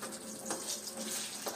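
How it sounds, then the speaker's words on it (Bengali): Eggplant slices fry in a pan on a home stove, a soft, continuous sizzling hiss held at a steady low level with a couple of faint pops. "মনে হচ্ছে বেগুন ভাজা হয়ে গেছে"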